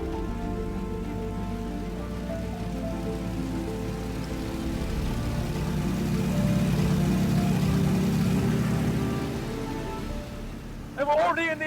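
A Fairey Swordfish biplane in flight from Yeovilton airfield, its engine a continuous low droning roar with harmonic hum, heard close from the rear cockpit, swelling midway and joined by brief voice sounds near the end.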